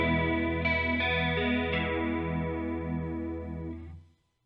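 Clean electric guitar tone from a Line 6 POD Go preset modeled on a Matchless DC30, with a chorus modulation block: a sustained chord shimmers with slow, wavering modulation and rings out before cutting off near the end.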